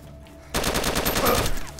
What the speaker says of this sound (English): it's me shooting at this guy who stole my mag.